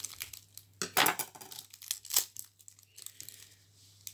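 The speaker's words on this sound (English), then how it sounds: "Cut the onion into two halves" A knife slices through a red onion, cutting it into two halves, with two crisp, crunchy cuts close by in an otherwise quiet kitchen.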